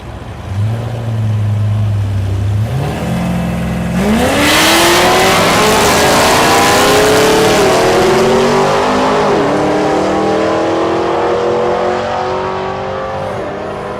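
Drag racing cars, one of them a Camaro, launch at Thunder Valley in Noble, Oklahoma, engines roaring loud and near as they climb through rapid gear changes, the pitch stepping upward again and again before a sustained full-throttle howl.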